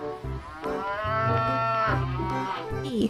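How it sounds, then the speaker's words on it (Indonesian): A cow moos in a long, drawn-out low call, close and clear, over a light musical background. "sapi."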